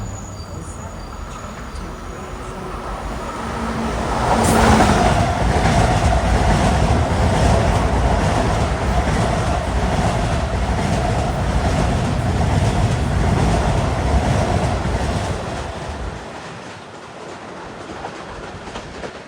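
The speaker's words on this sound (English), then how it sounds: "Coming fast east on 2 is 1916. Penn Station to Ronkonkoma." An LIRR commuter train heading east from Penn Station to Ronkonkoma rushes past at speed at Queens Village station. Its loud rumble and wheel clatter swell at about five seconds, hold for ten seconds, then fade. No horn sounds.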